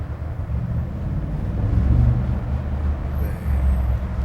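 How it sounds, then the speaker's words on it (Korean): A Mercedes G-Wagen 63 AMG with a 4.0-litre V8 rumbles through a tunnel, its deep exhaust swelling and easing as the sound echoes off the walls, with no voices. "8기통의 4000cc 배기음입니다"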